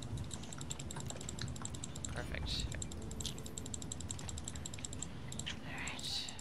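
Computer keyboard typing and mouse clicking during a SimCity game session, a rapid run of light clicks and keystrokes heard under a person speaking.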